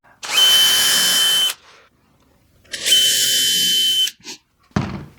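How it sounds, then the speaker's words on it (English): A power drill drives screws into wood while building a wooden Christmas tree, two loud sustained whirring bursts of about a second each separated by a pause, followed by short knocks and handling sounds. "we're gonna go ahead and do the same process here of drilling and screwing"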